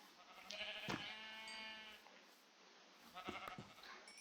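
Several Minecraft sheep bleat in short, wavering calls, a pair early on and another burst near the end, with quiet gaps between them.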